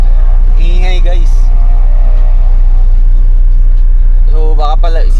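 A Honda Civic with a straight-pipe exhaust drones loudly and constantly up close, a heavy low engine rumble filling the whole stretch while someone talks over it at the start and end.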